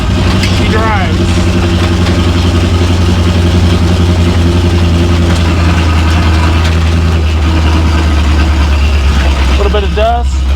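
A 1955 Buick Super's engine rumbles heavily and steadily as the car drives, a deep continuous low drone close by, with voices speaking over it.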